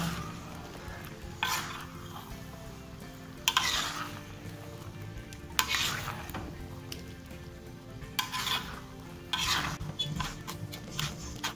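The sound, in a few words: stirring and frying petai with spices in pan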